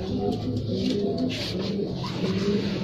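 Domestic pigeons coo in low, repeated throaty rolls close by, a steady murmur of several birds with faint chirps mixed in.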